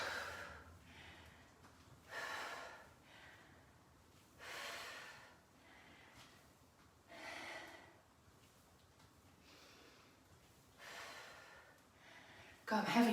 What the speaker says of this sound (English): God, I'm heavy breathing today.